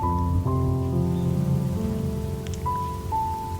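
Rain falls in a steady patter on surfaces in Jakarta, heard under sustained tonal background music with a faint distant rumble.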